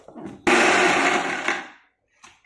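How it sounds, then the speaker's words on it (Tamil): A mixer grinder whirs loudly for about a second and a half, grinding horse gram chutney with salt, then winds down to silence before a few faint knocks. "உப்பு போட்டு கிரைண்ட் பண்ணிக்கலாங்க"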